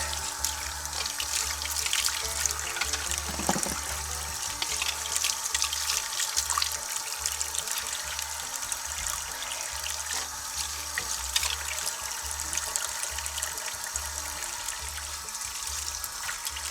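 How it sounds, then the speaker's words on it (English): Running tap water pours steadily over a fly casting reel being rinsed in a sink, a continuous close splashing hiss with faint clinks of handling and no talking. "I'm gonna rinse this off and see if there left anything on here."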